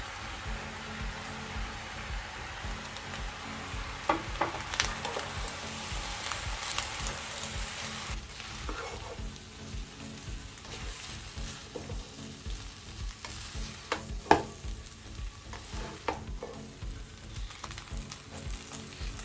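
Egg fried rice being stir-fried with light soy sauce, sesame oil and spring onions, a continuous sizzle broken by repeated scraping and tossing strokes of a utensil in the pan, fairly quiet, with no voices.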